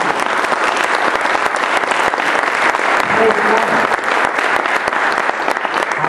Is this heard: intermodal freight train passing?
no